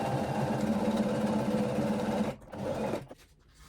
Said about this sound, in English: So I am just going to sew straight down.